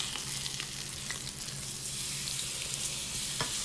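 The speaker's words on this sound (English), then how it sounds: "Now we're just cooking this last steak" A steak fries in a pan with a loud, continuous sizzle and crackle, close up, with occasional sharper pops and spatters and no one talking.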